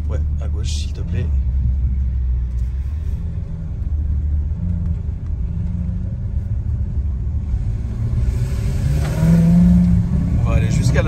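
A car engine rumbles steadily as the vehicle drives around a neighborhood, revving up near the end, with people talking inside.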